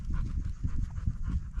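A tired dog pants rapidly and rhythmically at close range while resting at a campsite, the quick breaths steady and unbroken with no talking.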